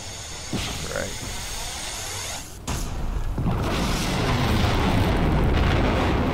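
A thermobaric explosion from The Reaper in a video game erupts as a loud, sustained rumbling blast with hissing roar after a sharp onset, building and lingering.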